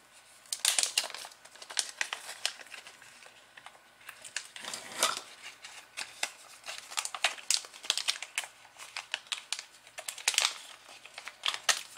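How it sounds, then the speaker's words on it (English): Protective paper being peeled and crinkled off an acrylic mounting plate from an Elegoo robot kit, a run of close, dry crackling and tearing rustles with brief pauses, alone without speech. "Go ahead and take the paper off from the one mounting plate there."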